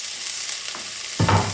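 Chopped onions and cilantro sizzle in a pot while they are stirred. The frying hiss is close and steady, and a louder burst of stirring comes near the end.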